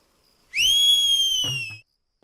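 Single sharp, high whistle blown to call someone, held for about a second and ending abruptly, loud and close with a faint low rumble at the tail.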